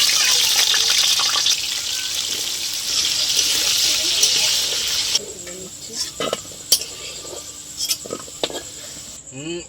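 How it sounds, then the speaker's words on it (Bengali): Prawns frying in hot oil seasoned with salt and turmeric give a steady, close hiss for the first half, which then thins into quieter, patchier sizzling broken by a few sharp clinks of a utensil. "চিংড়ি মাছগুলো ভেজে নেবো।"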